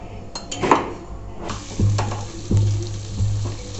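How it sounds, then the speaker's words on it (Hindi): Mawa roasting in ghee in a kadhai for coconut barfi, with a soft steady sizzle, clinks of a spoon against the pan and several louder scraping stirs. "ये हम मावा सेक लेंगे।"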